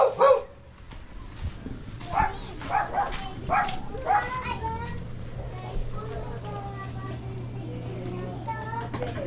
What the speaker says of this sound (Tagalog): Wait, laki ng aso.